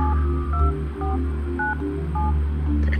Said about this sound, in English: This is the dial pad